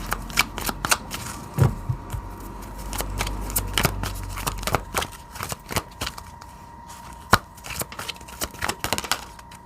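Oracle cards are shuffled by hand close up, a run of quick crisp riffles and slaps in an irregular rhythm, with short pauses between bursts and no talking.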